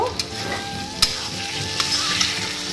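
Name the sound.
jhinge posto (ridge gourd with poppy seed) cooking in pan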